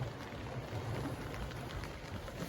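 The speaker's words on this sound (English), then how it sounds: "and it's raining again too" Steady rain patters on a sailing boat, a dense continuous hiss with a low rumble underneath, no voices.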